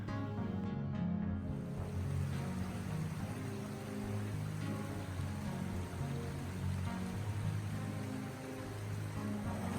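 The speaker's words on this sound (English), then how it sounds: "Now the confluence running in is just a small trickle." Small mountain creek trickling into the North Fork of the St. Vrain at the Sand Beach Creek confluence in Rocky Mountain National Park's Wild Basin, a steady continuous wash of running water throughout, with no voices.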